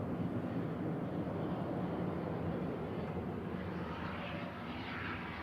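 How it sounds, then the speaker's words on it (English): An ATR 42 turboprop arriving from Aberdeen at Manchester Airport, a steady distant engine drone with a broad rumbling texture, heard alone at moderate level. "They're going to arrive in the background, ATR 42 from Aberdeen"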